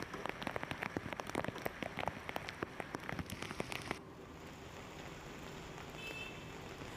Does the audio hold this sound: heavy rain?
yes